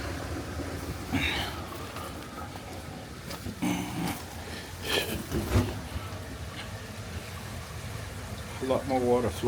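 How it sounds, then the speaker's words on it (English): Water flows and trickles through a backyard pond being readied for summer, a low continuous babble with brief louder bursts and muffled voice-like sounds over it. "A lot more water flowing through there."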